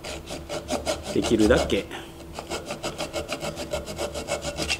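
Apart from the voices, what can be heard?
Japanese flush-cut saw with no tooth set cutting wood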